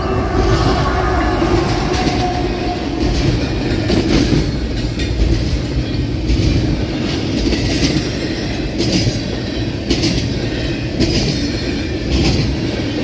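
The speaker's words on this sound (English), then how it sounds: "one locomotive pulling this train." A CSX intermodal freight train pulled by one locomotive rumbles past close by, a continuous heavy roar with rhythmic clacking of wheels over rail joints and faint metallic squeals.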